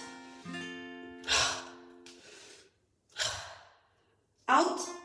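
Forceful exhales during a qigong-style breathing exercise, three loud breathy rushes of air spaced about a second apart, with a tone and speech in the gaps between them.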